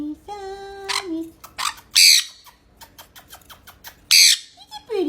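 A pet bird gives a shrill whistled call, then two loud harsh squawks a couple of seconds apart, close to the microphone, with quieter chattering sounds between them.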